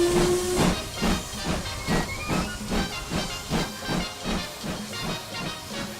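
Steady steam hissing with rhythmic chuffing bursts, like a steam locomotive working hard, with a brief whistle-like tone near the start.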